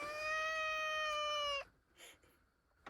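A cat named Nix gives one long, clear, tonal meow that breaks off abruptly, followed by faint rustling in a quiet van interior.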